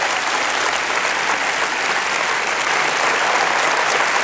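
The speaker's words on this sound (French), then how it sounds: "On l'applaudit, s'il vous plaît." A TV game-show studio audience breaks into sustained, dense applause, loud and steady from start to finish with no pauses and no voices over it.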